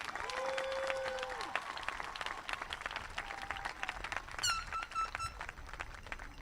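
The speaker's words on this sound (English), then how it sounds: "I would like us to give a round of applause to our parents." Applause at a 2021 school commencement, a soft scattered clapping from the audience for the parents, fairly distant, with squeaks and faint tones over it.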